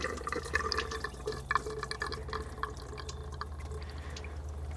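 Coolant drains from the radiator inlet hose of a Chevrolet Cruze with a GM Ecotec 1.4L engine, a steady trickling and dripping of liquid over a low background hum, close by.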